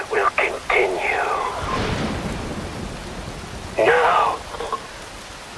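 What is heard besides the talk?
rain and wind in the video game Metal Gear Rising: Revengeance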